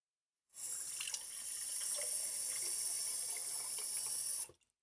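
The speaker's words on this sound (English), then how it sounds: "I'm gonna get a little bit of water." Water gushing from a tap into a sink or cup for a drink, a steady bright hiss that starts suddenly, runs for about four seconds and stops.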